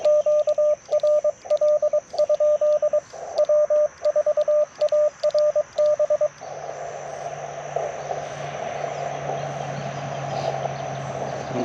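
Morse code tones keyed in short and long bursts over an amateur radio transceiver, a steady pulsing beep that stops after about six seconds and gives way to low hiss and background noise.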